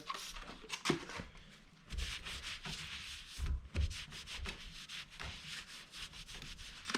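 Sandpaper is rubbed by hand over a Honda Monkey bike rear shock in short, close scratchy strokes, quiet and uneven, with brief pauses between passes.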